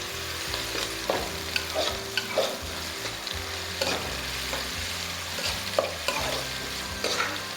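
Chopped onion with a little mustard seed frying toward light golden for a gola kabab masala, a steady close sizzle broken by repeated scraping stirs of a spoon against the pan, with no talking.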